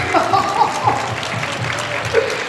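Applause from a Korean church conference audience, a steady patter of clapping hands with voices mixed in throughout.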